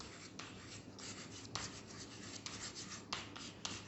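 Marker or chalk writing on a board in a classroom lecture, close scratchy strokes that come in short bursts with brief pauses between them.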